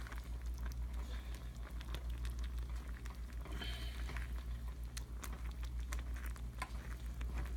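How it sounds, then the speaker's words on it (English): Mac and cheese mixed with creamy ranch and nacho cheese powder is stirred in a pot, giving a continuous wet, sticky squelching and patter over a low steady hum, with no talking. "Oh yeah, mix up that mac and cheese."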